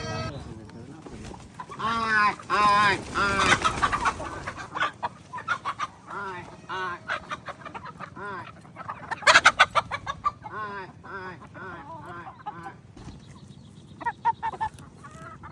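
A large flock of about one hundred to one hundred fifty farm chickens clucks and squawks continuously, with bursts of louder calls and occasional honking, while a voice talks now and then.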